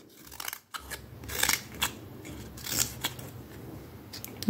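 Pointed scissors cut paper in several sharp, close snips spaced irregularly over a few seconds, some louder than others, with no voices.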